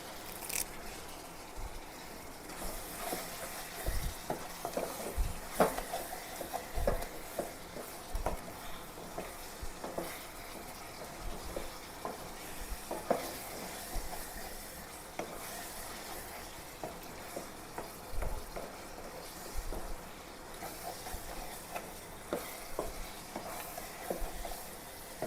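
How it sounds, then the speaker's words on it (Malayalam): Chicken roast fries on a high flame with a few sprigs of curry leaves, giving a continuous close sizzle and hiss with scattered stirring scrapes and soft clacks spread irregularly across the whole stretch. "ഹൈ ഫ്ലെയിമിൽ തന്നെ ഇട്ടിരിക്കുന്നത്, നന്നായിട്ടൊന്ന് വരട്ടണം. രണ്ട് മൂന്ന് തണ്ട് കറിവേപ്പില ഇട്ട് കൊടുക്കാം."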